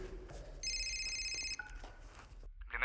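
A mobile phone, just pulled from someone's pocket, gives a short electronic ring, a steady bright tone lasting about a second with faint rustling and movement around it, quiet and close.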